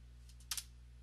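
Two quick keystrokes click on a computer keyboard while drafting in DraftSight CAD software, faint and close, with near silence before and after.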